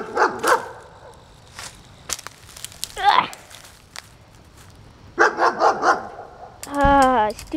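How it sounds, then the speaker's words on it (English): A dog barks outdoors among cold, brushy undergrowth, loosing several separate bursts of sharp barks and yips with pauses between, fairly close, the last burst the loudest. "Stupid dog."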